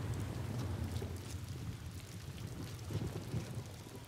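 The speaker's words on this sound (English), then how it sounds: "Hell, it's raining a lot." Heavy rain falls steadily in the video game Days Gone, a dense unbroken hiss layered over deep rolling thunder that rumbles low throughout, with no voices.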